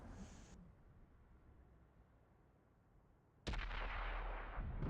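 A tank cannon fires in a competitive tank video game match, one abrupt heavy boom that follows a quiet stretch and rumbles on to the end.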